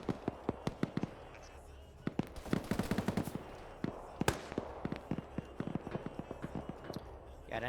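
Bursts of turret machine-gun fire in the military shooter Arma during a Zeus Ops defense of COP Keating, sharp rapid shots in uneven volleys, loud and fairly near, continuing throughout.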